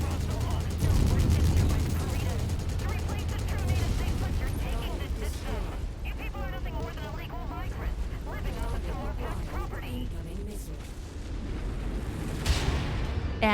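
Pulse Master laser weapons fire in MechWarrior 5 battle gameplay, a dense, loud barrage of rapid repeated pulses and blasts over a steady mechanical rumble, continuing across the whole stretch.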